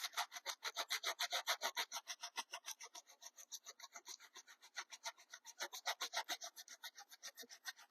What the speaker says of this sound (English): a Corian sanding block that I made years ago because I have buckets of Corian